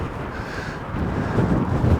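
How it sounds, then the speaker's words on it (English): Wind gusts outdoors in the Assynt landscape and buffets the microphone, a low rumbling roar that swells louder toward the end, with no voices. "for the wind just to die down a little bit"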